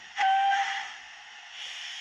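A short, shrill steam whistle blast from the sound system of a Hornby Large Prairie 61XX model locomotive, starting sharply, then fading into a softer lingering hiss, heard alone.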